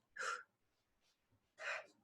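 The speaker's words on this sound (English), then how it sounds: "Ooh, I have to sneeze." A person sneezes indoors: a short breathy intake, then a single sharp sneeze burst, fairly close, in an otherwise quiet room.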